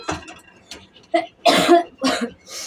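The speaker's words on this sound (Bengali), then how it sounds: "প্রচণ্ড কাশি হচ্ছে গো" A person coughs repeatedly at close range in a home kitchen, a string of short harsh bursts with a throat-clearing quality and brief pauses between them, no talking.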